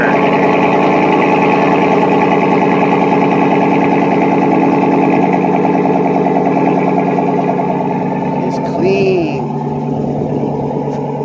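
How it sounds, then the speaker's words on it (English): A 2019 GMC Sierra Denali with a 6.2 V8 and Corsa exhaust runs steadily with a loud, close, deep droning rumble that barely changes, then dips slightly near the end. "That's how a Sierra Denali is supposed to sound"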